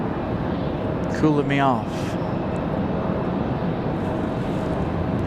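A JetBlue airliner taxis at Raleigh-Durham airport on a windy day, its jet engines a steady broadband roar that fills the whole stretch, with a person talking briefly over it.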